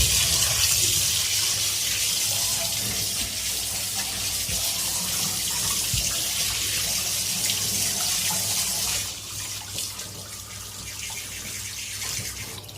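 Tap water runs steadily from a faucet into a sink while fish is rinsed, a continuous broadband splashing rush that stays close and even, easing slightly toward the end, with no talking.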